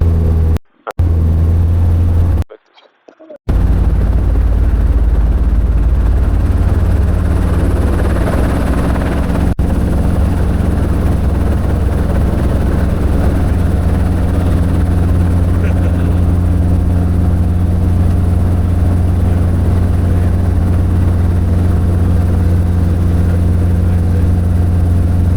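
Robinson R-22 helicopter in flight, a loud steady rotor and engine drone heard from inside the cabin, continuous after a couple of brief dropouts at the start.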